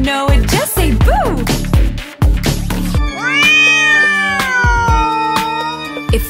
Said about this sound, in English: If you're a black cat and you know it, just say meow